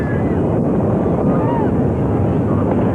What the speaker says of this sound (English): Liftoff of the 25th Space Shuttle mission, and it has cleared the tower